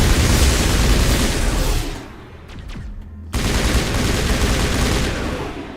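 Rifle fire in the Mass Effect video game, a dense, loud continuous burst of gunfire and blasts that stops abruptly for about a second before resuming at full intensity.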